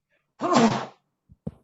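One sharp, loud sneeze from a person in an online class, followed by a couple of faint soft sounds in an otherwise quiet room.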